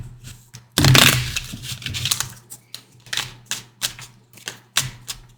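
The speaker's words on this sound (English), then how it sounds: "So I'm going to pull these crystal cards for you" Crystal oracle cards are pulled from a deck: a loud shuffle of cards, then a series of quick clicking taps from the cards, roughly evenly spaced and close, with no voices.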